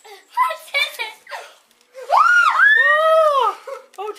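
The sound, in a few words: child screaming on opening a surprise puppy box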